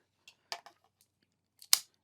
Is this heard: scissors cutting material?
yes